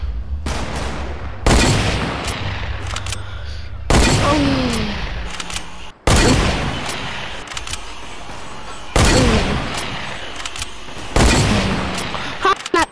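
Fortnite gunfire in repeated bursts, each a sharp, loud volley of shots followed by a brief decaying echo, about five bursts spaced a couple of seconds apart with short quiet gaps between them.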